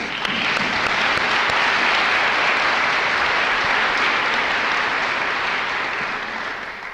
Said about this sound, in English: I'd like to take this moment again to share our thanks in a round of applause